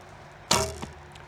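A single sharp twang of a traditional bow's string releasing an arrow, followed by a brief faint ringing hum, alone against quiet background.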